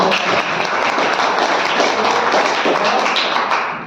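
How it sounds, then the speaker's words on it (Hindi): Studio audience applause on the Kaun Banega Crorepati quiz show set, loud, dense and steady throughout, a continuous wash of many hands clapping. "जोरदार तालियां बजा के"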